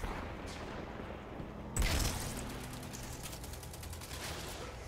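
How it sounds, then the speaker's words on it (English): Gunfire in the Destiny 2 PS4 beta: a sharp loud blast followed by a sustained stream of rapid shots and combat noise, fairly close and steady. "how many times do I need to shoot you?"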